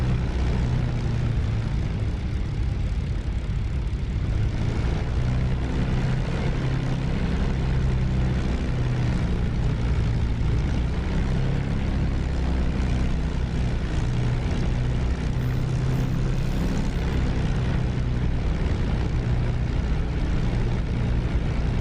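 A P-51 Mustang's propeller engine in the DCS flight simulator runs at a steady, loud idle drone, unbroken and with no voices, just before shutdown.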